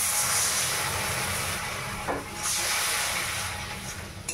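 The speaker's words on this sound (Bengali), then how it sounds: "তেল ছেড়ে গেছে, এবারে জলটা দিয়ে দিচ্ছি পরিমাণ মতো।" Water poured into hot oil in a pan while cooking egg curry: a loud, steady, broadband sizzle and hiss up close that briefly dips, then surges again and slowly fades, with no talking.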